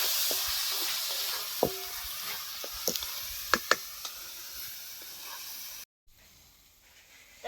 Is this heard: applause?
no